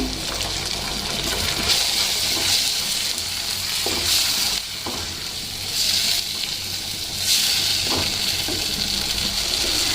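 Soya Manchurian fries in a pan with tomato ketchup being mixed in, a loud continuous sizzle up close, swelling in waves as the spatula stirs and scrapes through the sauce, with no voices.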